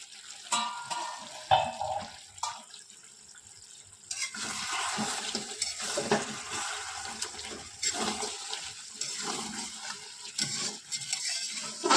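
Chicken browning in a covered pan for a Bengali chana chicken curry, with steady sizzling and frying broken by stirring scrapes and clatter, close and moderately loud, with no talk.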